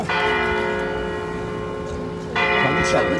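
A church bell in a tower in Orvieto, Italy, rung by a robot, strikes twice and leaves a loud, sustained ringing hum between the blows.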